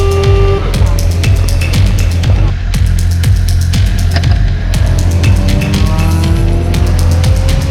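Race cars on a wet, windy track at a rolling start in a six-hour relay race, engines droning loudly and continuously nearby, with sharp clicking bursts and rising engine whines as the field accelerates.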